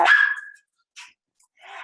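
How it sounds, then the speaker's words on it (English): Dogs bark in a home, one loud close bark followed by two shorter, fainter yips after brief pauses, with no talking over them. "Oops, my dogs are barking."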